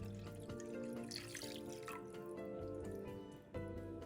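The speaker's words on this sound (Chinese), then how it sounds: "再倒入清水，水必须没过猪脚" Clean water poured into a pot over cleaned pork trotters for a Hokkien braise, a steady soft splashing stream with drips, fairly quiet and without talk.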